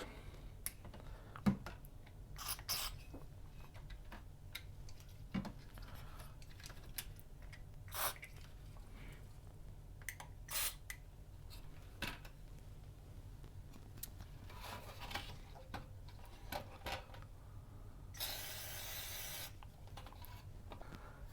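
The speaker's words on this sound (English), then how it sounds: "use a little bit of electronic cleaner into the contacts" Electronic contact cleaner sprayed into the contacts of a Commodore VIC20 under restoration: a short, faint hissing burst near the end of a quiet stretch scattered with small clicks and taps.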